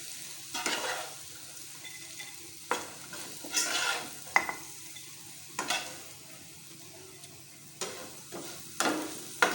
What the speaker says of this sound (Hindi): हरा धनिया पाउडर जो ऐड किया है उसको हम अच्छी तरह से मिक्स कर लें